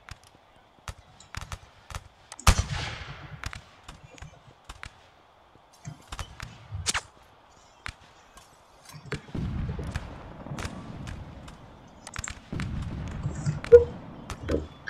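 Blunderbuss, an early flintlock shotgun-style pyro weapon, fired in several separate sharp blasts with thumps and rumbling tails, spaced irregularly across the stretch with quieter gaps between.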